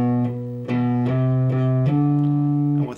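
Electric guitar picks out a short melodic note sequence, four clean sustained notes plucked one after another at a moderate pace, each ringing into the next, close and clear with no talking.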